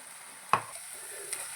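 Masala paste for chicken sherva fries in a pan with a soft steady sizzle, broken by two sharp scraping clicks of a stirring spoon.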